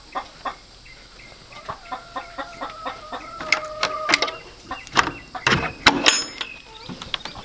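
Chickens inside a layer coop cluck and squawk close by in irregular bursts, with a few louder calls toward the end, over a faint rattling background.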